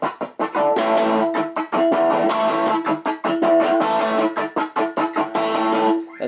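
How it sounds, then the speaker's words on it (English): Second electric guitar part, played alone: choppy, lightly overdriven strums with sharp muted gaps between chords, repeating in a steady rhythmic pattern at close, loud level. "We also have the second guitar part added, which sounds like this."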